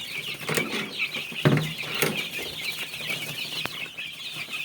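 Four-week-old Dominant breed chicks cluck contentedly while pecking at feed, their soft chirps and clucks blending into a steady, busy flock chatter with occasional wing flutters, close by and fairly loud.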